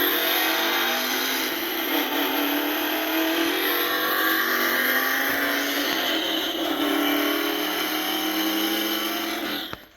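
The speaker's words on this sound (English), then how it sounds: "makes the engine sound and makes the lights flash" A Hess toy truck's steady, buzzy electronic engine drone with a slowly rising whine runs for about ten seconds, then cuts off abruptly.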